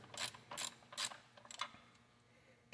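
A ratchet clicks in three quick, loud bursts and then several softer turns while loosening the alternator adjuster bolt on a 2004 Subaru Forester, heard up close in a quiet setting.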